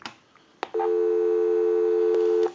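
PTT rotary desk telephone handset giving a busy signal: a click, then a loud, steady electronic tone heard up close for under two seconds, ending with another click.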